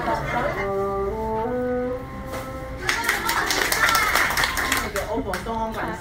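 Hands clap in a quick burst of sharp, close claps in the second half, mixed with a person's talking voice that continues over and around them.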